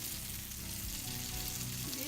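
Cardamom French toast frying in a very hot pan gives a loud, steady, close sizzle that fills the whole stretch without a break.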